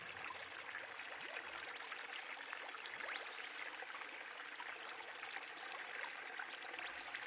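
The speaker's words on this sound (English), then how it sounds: "at the moment just the two small babbling waterfalls there" Two small babbling waterfalls spill into a modest garden pond, a faint, continuous trickling wash with no break, with occasional thin bird chirps over it.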